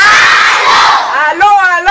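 A large crowd of students lets out a loud, sustained collective roar and shout, close and dense, fading slightly before a brief renewed burst at the end.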